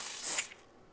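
A short, loud hiss of Fuchs motorcycle chain lubricant spraying from an aerosol can, lasting about half a second before fading, heard alone.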